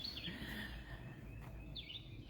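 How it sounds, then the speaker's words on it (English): Birds chirp faintly on a spring morning, with a few short high calls over a steady low background rumble and no talking. "Hear the birds singing?"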